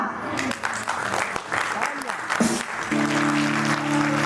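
A crowd claps steadily throughout at a stage singing performance while an anchor speaks over it, and a sustained musical tone enters near the end.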